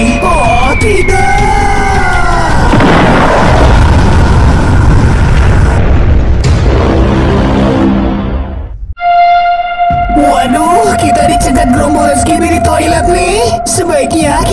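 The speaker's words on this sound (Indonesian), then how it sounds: "aku akan meledak nih" A loud explosion in a video game booms out with a broad roar and rumbling debris, then cuts sharply before busy game sounds and a steady tone return.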